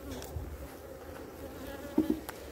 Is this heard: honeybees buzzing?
yes